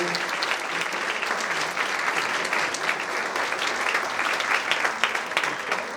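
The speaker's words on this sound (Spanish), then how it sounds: "Un aplauso, por favor, para nuestro ponente" An audience at a university talk on family, university and business as agents of social change applauds the speaker, a dense, even patter of many hands clapping throughout with no voices on top.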